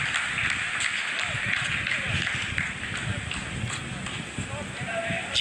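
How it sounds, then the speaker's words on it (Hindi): Scientists in mission control applaud after the Chandrayaan-3 lunar landing phase is completed, producing steady, dense clapping from a large crowd, with cheering voices mixed in throughout. "आप इस तालियों के गड़गड़ाहट को सुन सकते हैं"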